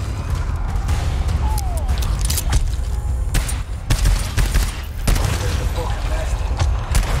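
Gunfire in the co-op horror shooter GTFO, dense rapid bursts and booming shots mixed with combat noise, loud and continuous beneath players talking.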